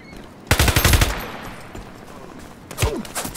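Machine-gun bursts in the shooter game Ironsight: a loud rapid volley of shots, a quieter stretch, then a second shorter burst near the end, with no talk over it.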